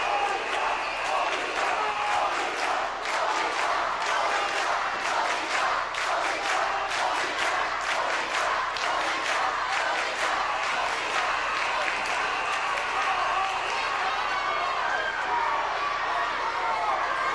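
A college basketball crowd at Sacred Heart versus Holy Cross cheers and claps steadily, fired up by cheerleaders, a loud continuous arena roar with rapid rhythmic clapping throughout.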